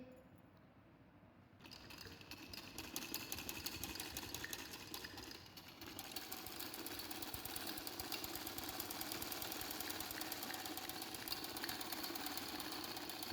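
A sewing machine stitches the side seam of a baby frock, running in a steady fast mechanical whir after a quiet start, close and moderately loud with no talking.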